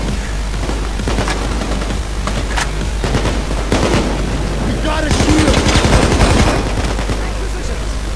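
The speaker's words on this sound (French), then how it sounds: "Alors on entend les tirs de sniper et tout" Sniper and rifle gunfire in the heist shooter PayDay 2, a dense run of sharp shots and bursts layered under loud game noise, with a heavier cluster of firing toward the end.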